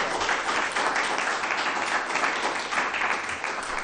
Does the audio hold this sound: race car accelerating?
no